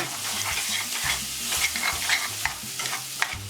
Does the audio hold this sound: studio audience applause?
no